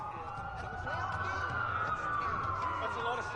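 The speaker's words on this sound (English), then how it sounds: "That's a lot of sirens for a blackout." Police sirens wail in the Watch_Dogs video game, a rising and falling tone over a low engine rumble, fairly close and continuous.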